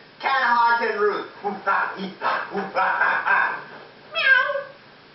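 A performer's voice imitates a cat, with a drawn-out meowing cry of several bending tones followed by a short rising meow, done as an impression during a comedy puppet act.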